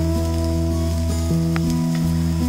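Shredded cabbage dropping into a hot pan for vegetable cutlets, a loud continuous close sizzle with a faint steady hum under it, with no talk.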